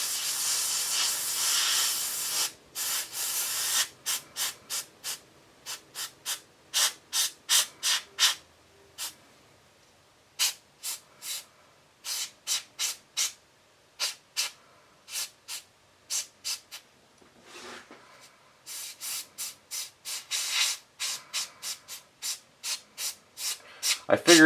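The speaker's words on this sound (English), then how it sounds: "I figured I'd just do it this way with the airbrush because it'll go on a little bit smoother instead of trying to sit there with a paintbrush" Airbrush spraying black metallic paint onto a Mass Effect Garrus statue weapon at lowered pressure: a long hiss at first, then many short rhythmic bursts of spray, close and steady, with no talking.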